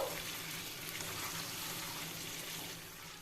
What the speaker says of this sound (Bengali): এবার কড়াইতে যে অবশিষ্ট তেলটা রয়েছে এর মধ্যে আমি সেদ্ধ করা আলুগুলো দিয়ে দেবো।